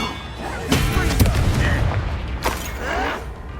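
Booming spell blasts from a Harry Potter-style wizard game burst out close and loud over a continuous rumble, with a strong hit near the start and another later on, while a voice speaks in between.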